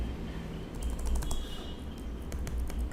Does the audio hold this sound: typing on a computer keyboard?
yes